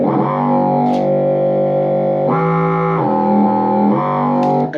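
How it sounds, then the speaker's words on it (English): A synth bass line routed through a second synth rings out as a heavily distorted, buzzing electronic tone. Sustained notes step between pitches in a slow pattern, with no voices. "it's that bass line again, but it's sent through another synth doing a different kind of sound"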